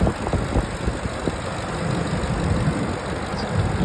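A 2009 Ford Expedition's 5.4 liter engine idles steadily with a low, even rumble and faint mechanical ticking, heard close and alone with no talk.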